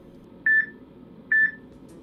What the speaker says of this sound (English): which is then followed by two beeps which sound like this